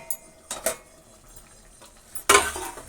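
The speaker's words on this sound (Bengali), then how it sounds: "এবারে ঢাকা খুলে দেখব" A metal lid clatters off a pot of Kolkata-style chicken curry, with sharp clinks of metal on metal, a short pause, then a louder scraping clank, close and without talk.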